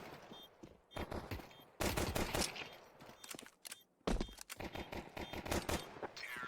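Pistol fire trades back and forth in Counter-Strike using Glocks: bursts of sharp, rapid shots come in clusters separated by brief gaps, loud and close, with no talk over them.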